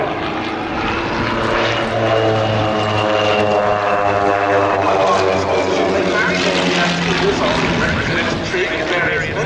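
Pitts aerobatic biplanes roar through a triple turnaround of three half Cuban manoeuvres at an air show, the propeller engines droning loudly and steadily with shifting pitch as they pass, with a commentator speaking over them.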